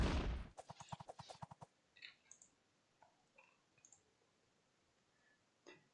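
Rapid volley of musket-style gunfire from a Korean versus Russian army battle in a strategy video game, a dense burst of cracks over about a second followed by scattered distant shots and faint clicks.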